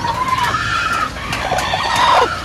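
Newly hatched native chicks cheep high and thin around a hen inside a backyard chicken coop at night, with soft clucking and scattered peeps close by over a steady ambient hiss.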